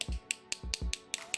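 Sharp dry clicks from a hardened acrylic nail being pinched, about seven crisp close snaps in an uneven rhythm, with soft low thumps between some of them.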